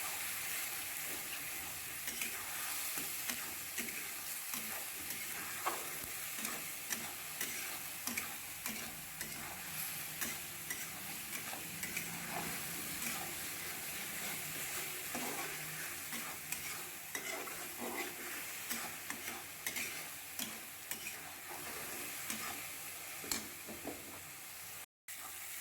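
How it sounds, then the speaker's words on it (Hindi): A paste of onion, garlic, chili and ginger frying in oil, a soft continuous sizzle with regular ticking scrapes of a spoon stirring the pan and no voices. "पेस्ट को तब तक भूनूंगी जब तक इसमें से तेल अलग न होने लगे"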